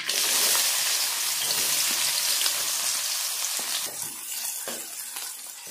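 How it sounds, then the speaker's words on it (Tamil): Two large chopped onions hit hot oil for a flattened-rice breakfast dish, giving a loud, close, crackling sizzle. The sizzle eases slightly as it settles, with a few soft stirring knocks near the end. "அது 2 வெங்காயத்தையும் இதில் சேர்த்துக்கலாம்."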